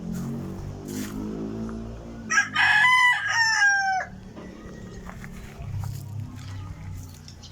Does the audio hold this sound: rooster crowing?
yes